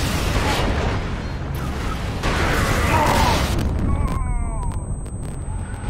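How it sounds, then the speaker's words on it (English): A grenade goes off during Warhammer 40,000 Space Marine PvP gameplay, heard as a loud booming burst within dense game noise, followed by metallic clatter and fading effects. "I think that guy blew himself up with his own grenade."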